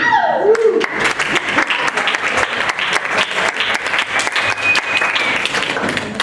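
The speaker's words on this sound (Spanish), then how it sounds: "Un pequeño aplauso, por favor" An audience at an arts evening applauds to welcome the Mexican artist Iván Trueta. The clapping is loud and sustained, close and continuous, with a brief voice at the very start before the applause takes over.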